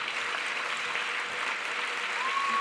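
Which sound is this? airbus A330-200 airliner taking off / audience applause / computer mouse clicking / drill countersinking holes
audience applause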